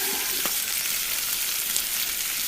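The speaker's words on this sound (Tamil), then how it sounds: "இப்ப வெண்டிக்காய் வந்து பொரியட்டும்" Okra frying in hot oil for a Tamil mor kulambu, a steady close sizzle and crackle throughout with a couple of faint knocks near the start, no voices.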